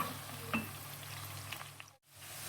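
Shrimp and vegetables fry in a pan, giving a steady close sizzle with faint stirring scrapes, and the sound cuts off briefly near the end.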